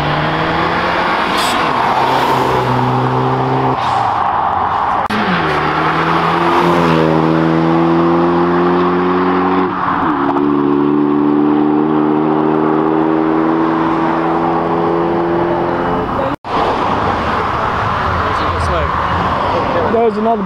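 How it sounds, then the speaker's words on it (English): A BMW M4 and a Honda Civic Type R do burnouts at a car meet, engines revving hard in rising and falling bursts with squealing tyres, loud and close, while people talk over the roar. "Another burnout on an M4. And a Type R."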